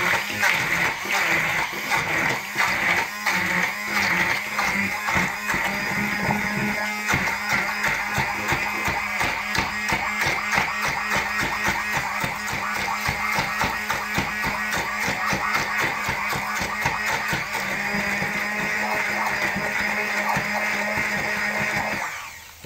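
A blender purees apples into apple sauce, a loud continuous whirring buzz that runs without pause for over twenty seconds, with slight wavering as the load shifts.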